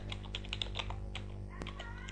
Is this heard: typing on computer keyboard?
yes